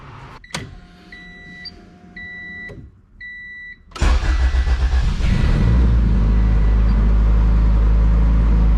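A car with a newly installed Skunk2 radiator and Spal electric fan gives a few electronic chimes, then the engine cranks and catches with a loud, close roar that settles into a steady idle.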